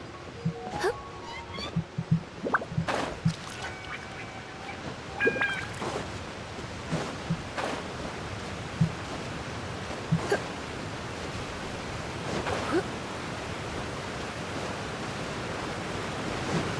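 A waterfall in Genshin Impact rushes as broad, constant water noise, with scattered brief clicks and chirpy game sounds over it.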